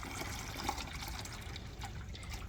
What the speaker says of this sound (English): So just a nice gentle pour.